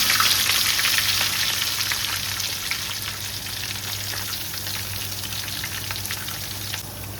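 Sliced onions frying in hot oil for a liver curry, a strong steady sizzle close to the pan that gradually eases a little in loudness, with a faint low hum underneath.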